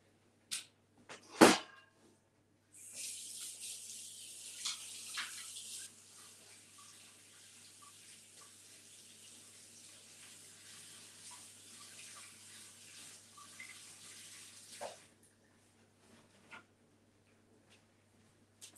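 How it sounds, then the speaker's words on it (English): A tap runs into a sink while water-based ink is washed off a lino printing roller. A sharp knock comes first, then a steady hiss of flowing water for about twelve seconds, shifting as it strikes the roller, and finally a few clicks and thumps. "So I'm going to wash this one off really quickly and print the white out for you."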